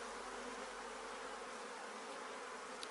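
A honeybee swarm hums inside a crowded hive, a dense, steady buzz that holds without a break from start to finish, close and even in level.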